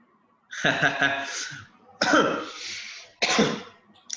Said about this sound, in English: making me cough, man